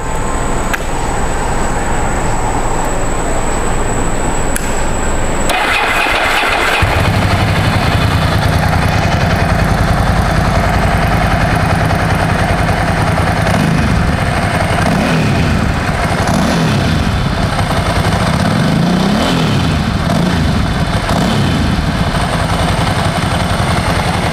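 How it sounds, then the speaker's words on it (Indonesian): A 17-year-old Ducati motorcycle engine runs steadily and loudly, with a throaty exhaust rumble that rises and falls as the throttle is blipped several times. "coba kita nyalain lagi untuk fokusin ke suara knalpotnya seperti apa ya"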